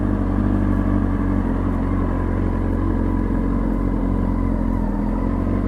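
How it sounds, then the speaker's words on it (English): A 600cc motorcycle idles and creeps away from a standstill with no throttle, a steady low engine rumble with slight clatter, close and continuous with no rise in revs. "this bike even is so simple that I don't even think I gotta give it throttle and I can go on it"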